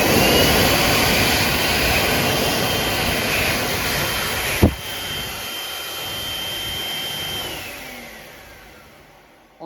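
A Mediclinics Machflow Plus hand dryer runs on low power with a steady, whooshing airflow roar, a sharp click near the middle, and the noise tapering off toward the end, with no talking.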